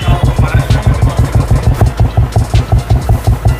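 A Royal Enfield motorcycle idles with an aftermarket silencer exhaust, its loud, steady thumping pulses repeating in an even, rapid rhythm close to the microphone, with no voices over it.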